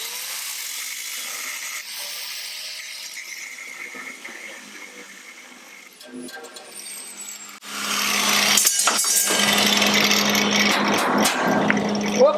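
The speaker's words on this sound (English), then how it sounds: "Just cut it off." A power tool cuts through a metal tube during welding work on a car body's underside, grinding quietly at first and then growing loud and harsh after about eight seconds, with a steady, sustained bite.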